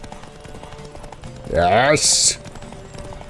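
Horse galloping in The Witcher 3, a steady clip-clop of hooves under game sounds, with a whinny-like cry and a short burst of noise in the middle while a player exclaims over it.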